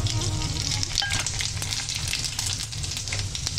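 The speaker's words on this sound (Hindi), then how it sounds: "तेल गर्म हो गया, अब हम इसमें डालेंगे थोड़ा सा लौंग" Cloves and cumin sizzle vigorously in hot oil for dal makhani, a loud, steady close frying hiss with crisp spitting crackles and a low hum behind it, with no voices.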